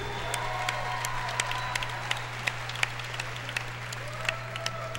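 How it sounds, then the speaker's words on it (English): Crowd applause for two female Muay Thai fighters at a sports center in Tampa, Florida, a steady wash of clapping with scattered sharper claps over a constant low hum, fairly distant. "let's have a nice round of applause for both fighters"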